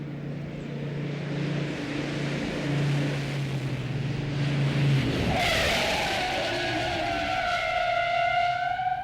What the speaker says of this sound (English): First time I braked really hard, and I could feel the back wheels lock up.